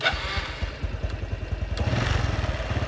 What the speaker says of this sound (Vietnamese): mình phải nổ máy đã